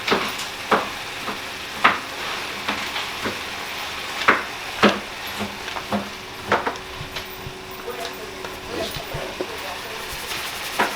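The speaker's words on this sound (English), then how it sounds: "And stir it up and browning the meat" Ground meat browning in a pan for enchiladas, a low steady sizzle under repeated scraping and clacking stirs of a spoon, with a voice talking quietly at times.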